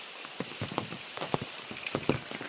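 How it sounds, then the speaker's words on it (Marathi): Heavy monsoon rain in the Konkan, falling steadily with a close, irregular patter of drops on a surface. "वरून बघते पाऊस किती लागतोय"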